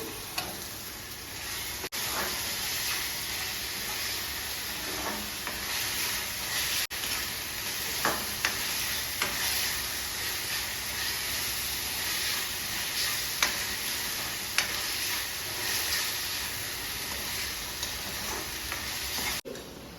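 Ginger paste sizzles steadily in hot oil with browned onion paste in a pan, a continuous frying hiss broken by occasional sharp stirring clicks and scrapes, without speech.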